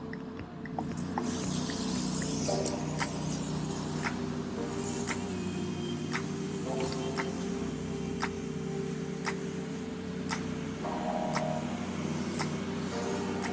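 A pressure washer sprays a grimy brick wall. The motor drones steadily and close by under a hissing spray, with sharp clicks scattered through.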